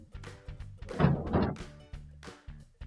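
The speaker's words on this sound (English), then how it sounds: "First thing we're going to do is open up our freezer drawer." Freezer drawer of a Maytag refrigerator being pulled open, a soft sliding rumble with a muffled thunk in the middle, close and fairly quiet.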